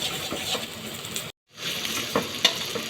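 Curry paste stir-fried in hot oil while cooking pork liver instant noodles, a close, steady sizzle with scraping stirring strokes, briefly cut to silence before resuming.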